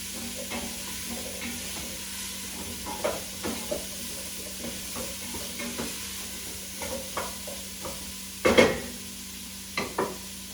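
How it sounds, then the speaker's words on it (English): Vegetables for carrot lime soup cook in a pan, a soft, fairly quiet sizzle broken by repeated scraping stirs and a louder clatter near the end, with no talking. "I'm going to go ahead and stir that around till it gets sugared"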